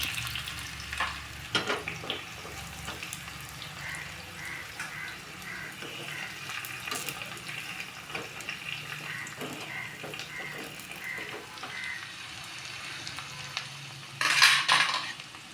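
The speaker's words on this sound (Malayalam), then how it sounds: "കടു നല്ലവണ്ണം പൊട്ടുമ്പോൾ നമുക്ക് ചെറിയ ഉള്ളി തോനെ വേണം താളിക്കാൻ" Mustard seeds splutter and plenty of small shallots fry in hot oil for a tempering, cooked for a black colocasia stem tamarind curry: a steady close crackle and sizzle with scattered sharp pops and a brief louder burst near the end.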